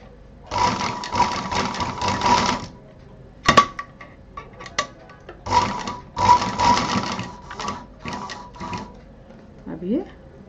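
A sewing machine stitches pieces of a fabric hot pot pad together in several short, rapid mechanical runs, close and clear, broken by pauses with handling clicks while someone talks.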